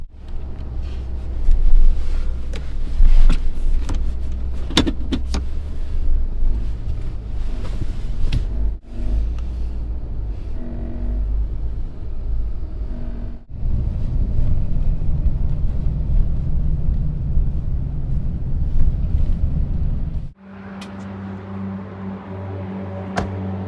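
Steady road rumble and wind noise from a truck camper rolling along a highway in Utah, a continuous low drone with occasional bumps and shifts in tone, then a quieter cabin hum near the end.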